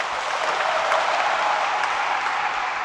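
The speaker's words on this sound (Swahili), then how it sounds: "Wamama jipigeni makofi" Women in a church gathering applaud together, producing a continuous, even burst of many hands clapping that swells slightly and then holds steady, with no talk over it.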